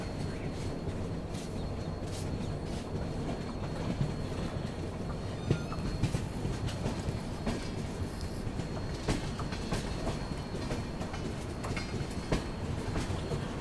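Rajasthan Humsafar Express train running as it approaches Rewari Junction, a steady wash of rolling noise and rumble from inside the carriage, with scattered clicks and rattles throughout and no voices.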